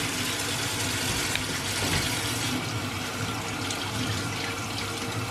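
Warm tap water runs steadily from a faucet while pets are bathed, a constant close rushing and splashing with no pauses and no voices.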